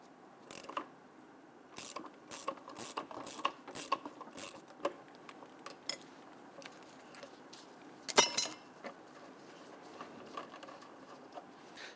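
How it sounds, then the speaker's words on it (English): Ratchet clicks in short bursts loosen the center nut on a Dodge Charger rear shock mount, quiet and close, with a sharper metallic clatter near the end and pauses between strokes. "let's loosen and remove the center nut here"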